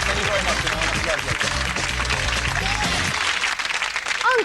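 A studio audience on a late-night comedy show gives a round of applause, a dense wash of clapping and cheering that fades out after about three seconds, with a voice sounding over it.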